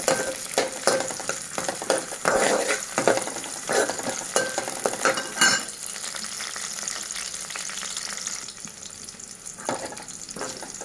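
Onions, green chillies, ginger and curry leaves frying in oil for rice rava upma, with a steady close sizzle and occasional stirring scrapes throughout, growing a little quieter toward the end.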